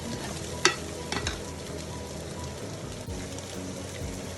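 Onions frying in a pan for a Thai sweet and sour chicken stir-fry, a dense steady sizzle with a sharp utensil tap early on and a few soft stirring scrapes, close, with no speech.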